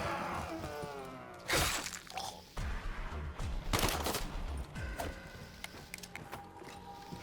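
Rapid bursts of video game gunfire in a saloon setting crack out loudly in several volleys, with shattering impacts between them and quieter gaps.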